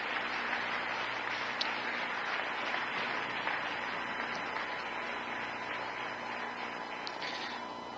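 A church congregation applauds during a sermon, broad sustained clapping from many people that fills the room evenly and steadily for the whole stretch.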